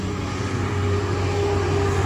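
Heavy trucks rumbling past outside a 2021 Merhow horse trailer, a steady, loud low-pitched drone with engine hum that holds without a break.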